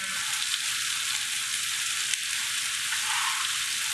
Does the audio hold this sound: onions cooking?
yes